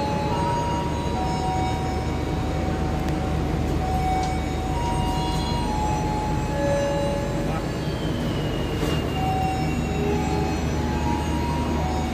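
A steady, loud, low rumble from a Semarang–Jakarta nonstop express train runs through the whole stretch, with faint tonal whines and brief higher squeals drifting over it.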